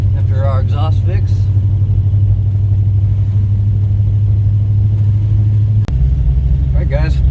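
A 1969 Pontiac GTO engine rumbles on a test drive after an exhaust fix, a loud, deep, steady note that drops in pitch near the end. Someone talks briefly at the start and end.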